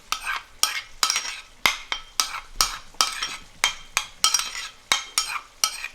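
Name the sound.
mixing yogurt with crushed black peppercorns into curry in pot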